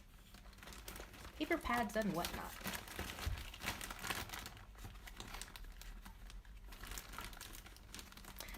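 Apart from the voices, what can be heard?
rummaging through paper scraps and crepe paper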